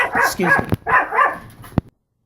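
Puppies bark and yip in several quick bursts, close and fairly loud, with a short sharp yap at the end.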